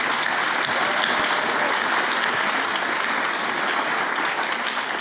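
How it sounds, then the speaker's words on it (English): Audience at a science festival's grand opening gala breaks into sustained applause, a thick, even roar of clapping with occasional sharper claps standing out. "Can we have a round of applause?"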